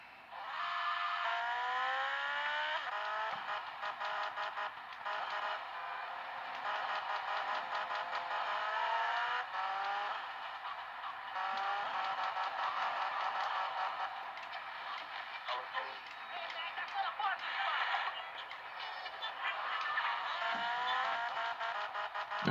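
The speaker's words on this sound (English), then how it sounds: "I'm on the motorcycle." Motorcycle ridden in the video game Grand Theft Auto: Vice City, a steady engine whine that rises and shifts through gears with occasional tire squeals, continuous and fairly loud for the whole stretch with no talking.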